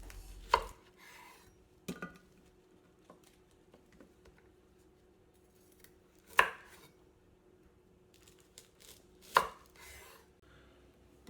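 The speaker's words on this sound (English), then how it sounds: "If the Brussels sprouts are very large, I like to cut them in half before cooking." A knife halves large Brussels sprouts on a board, giving four sharp, isolated chops spaced a few seconds apart against a quiet kitchen background.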